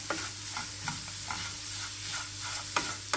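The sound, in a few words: coconut, sugar and banana filling heated and stirred in pan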